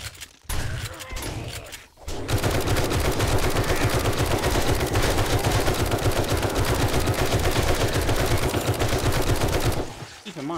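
Sustained automatic gunfire in 7 Days to Die during a raid on Moe's Cathedral, a loud unbroken rattle of rapid shots lasting about eight seconds after a couple of brief opening bursts, then cutting off.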